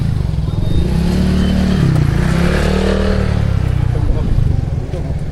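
A motorcycle engine rumbles steadily nearby, its low throbbing tone rising and falling slightly, with voices talking over it.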